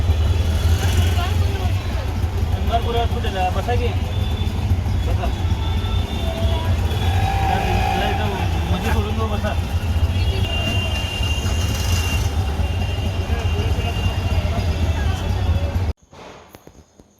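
A steady, loud engine and road rumble from inside a moving auto rickshaw in traffic, continuing without pause until it suddenly cuts out near the end.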